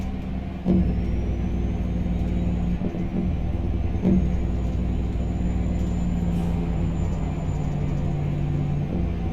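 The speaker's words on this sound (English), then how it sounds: "Pretty muted Jake brake." Peterbilt 389 semi hauling a triple lowboy in American Truck Simulator, using a muted Jake brake: a steady low, rumbling engine drone with a few soft thumps, continuous and fairly loud, no talking.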